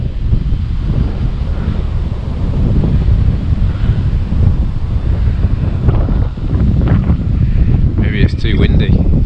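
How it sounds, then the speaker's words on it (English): Strong gusty wind buffets the microphone with a loud, continuous roar outdoors where a Volantex Phoenix 2400 glider is flown, with brief speech and a faint high electronic tone near the end. "Big gust of wind then."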